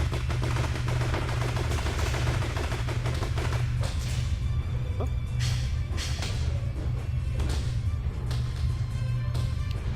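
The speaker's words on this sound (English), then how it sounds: "Dispensing justice with 45 caliber rounds." Rapid bursts of .45 caliber gunfire from the video game Champions Online, dense and continuous over a steady loud game soundtrack, with sharp overlapping shot transients throughout.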